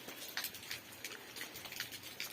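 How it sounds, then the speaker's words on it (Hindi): Light rain falls outside on a dark, foggy early morning, a soft faint patter with scattered drips and taps against a quiet background. "बारिश लगी हुई है"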